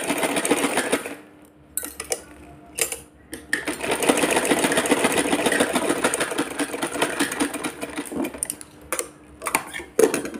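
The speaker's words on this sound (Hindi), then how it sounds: "डबल कर देंगे सिलाई को ताकि निकले ना।" A sewing machine stitches a woolen winter doll dress in repeated close, rattling runs, pausing briefly between bursts of fast needle clatter.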